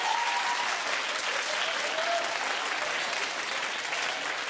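A studio talk-show audience claps and cheers in a dense, sustained burst of applause that stays loud and even from start to finish.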